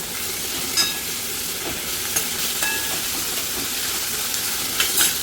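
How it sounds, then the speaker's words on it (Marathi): Onion and tomato sizzle in a pan after mustard seeds and chilli, a steady close hiss of frying with a few faint clinks and stirring scrapes scattered through, no voices. "कांदा टोमॅटो चांगला परतून घेते."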